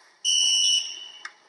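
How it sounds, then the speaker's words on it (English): Fire alarm in the fencing video game En Garde, a loud shrill electronic tone held for about half a second, then fading, followed by a brief faint blip. "Maybe I can pull the fire alarm."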